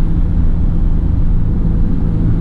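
Ford Transit 350 medium-wheelbase high-roof van cruising at about 60 mph, a steady loud low road and engine rumble with broadband tyre and wind noise throughout, no voices.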